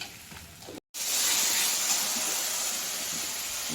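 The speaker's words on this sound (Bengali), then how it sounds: "Tomato paste. এবার এটা কষিয়ে নিই, তারপর জল দেবো।" Tomato paste frying in oil in a pan, a loud, close, steady hiss of sizzling that starts abruptly after a brief silent break and holds evenly to the end, with no voices.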